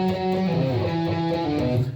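Distorted electric guitars playing a harmony part, a dense, loud sustained melodic line with steady note changes and no talking.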